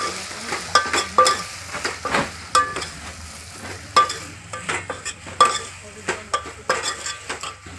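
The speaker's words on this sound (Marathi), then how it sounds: "असे तुरीचे दाणे टाकून दिले, फिरून घ्यायचं." Pigeon pea beans are tipped into hot oil and stirred, giving a close, crackling sizzle broken by repeated rhythmic scrapes and clinks of a spoon against the pan.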